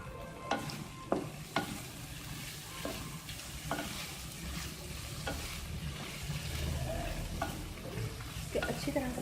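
Capsicum and boiled corn fry in a pan for chicken chow mein, giving a continuous soft sizzle with regular clicks and scrapes from a spatula stirring them.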